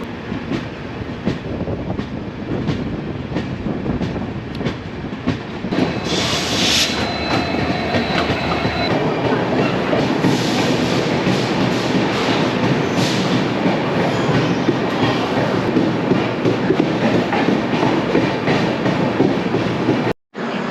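A passenger express train on the Danapur to Bengaluru route runs steadily over the rails, heard from inside the carriage as a continuous loud rumble with rhythmic clickety-clack of wheels over joints and occasional faint squeals.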